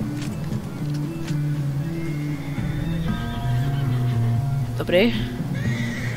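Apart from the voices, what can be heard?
horse neighing in video game Red Dead Redemption 2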